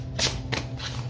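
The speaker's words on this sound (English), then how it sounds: "This one shuffles excellently." Borderless tarot cards riffled up close: a few short papery shuffling bursts in about a second, fairly loud and dry, with no speech.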